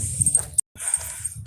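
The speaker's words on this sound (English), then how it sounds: "Here's the real doggy." A dog whimpers close by in a thin, high whine that wavers in short bursts, breaks off for a moment, then resumes.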